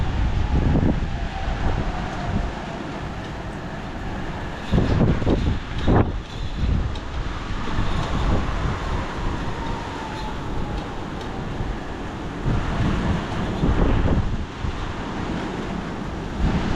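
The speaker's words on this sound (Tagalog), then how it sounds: "Lakas ng hangin, grabe." Strong wind roaring in gusts during a storm with heavy rain, loud, broadband and continuous with buffeting against the microphone, surging louder around a few moments.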